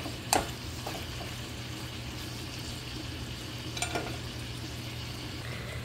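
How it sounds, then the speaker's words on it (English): Steady sizzle of bacon frying crisp in a pan, a continuous crackling hiss with a couple of brief louder pops or clinks. "I'm already frying the, the bacon. And I'm gonna cook until it's real crispy."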